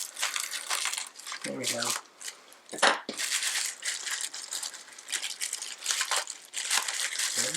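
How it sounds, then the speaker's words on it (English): A mail package being cut open: close crinkling and rattling of plastic and paper in repeated bursts, with brief soft speech in between. "I'm going to have to cut that open."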